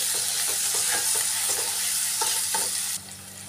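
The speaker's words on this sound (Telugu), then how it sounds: "2 నిమిషాల పాటు కలుపుతూ వేయించుకోవాలండి అల్లం వెల్లుల్లి పేస్ట్" Ginger garlic paste stirred and fried with onions in a pan for mutton curry, a loud steady sizzle with rhythmic scraping strokes of the spoon, which drops off sharply near the end.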